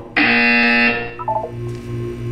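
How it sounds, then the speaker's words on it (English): A loud, harsh buzzer blares for under a second in the video game Portal 2, followed by softer mechanical whirs and tones from the game environment. "When you hear the buzzer, look down at the floor."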